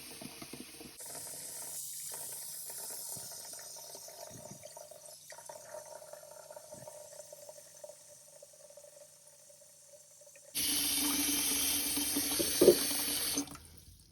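Tap water runs into a basin being filled for wet blocking a knitted sweater, first as a softer steady stream, then a loud, close rushing fill near the end, with no talking.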